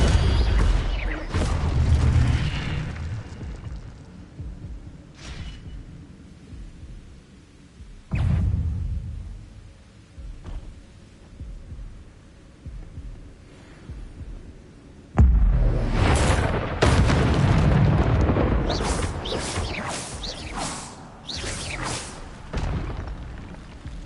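Incendio fire spells cast in Hogwarts Legacy burst out as heavy booming whooshes, loud and close, recurring in rapid volleys with crackling flame bursts and low rumbling between them.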